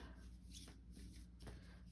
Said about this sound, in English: So I'm shuffling more, see if anything else wants to pop out.